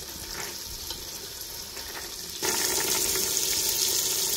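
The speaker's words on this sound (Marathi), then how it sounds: "असं चांगलं असं एक जीव होईपर्यंत हे सगळं तेलात भाजून घ्यायचं" Chopped tomatoes and shelled green peas fry in oil, a steady crackling sizzle that grows louder and brighter halfway through as more goes into the pan, with no talking.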